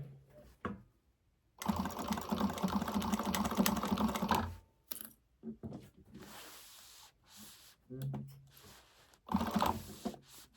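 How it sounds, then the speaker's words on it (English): A sewing machine stitches the side seam of a fabric Aurora bag, a close steady burst of rapid mechanical chatter lasting a few seconds, followed by shorter runs and handling noises with occasional quiet speech. "I'm going to stitch this side of the bag."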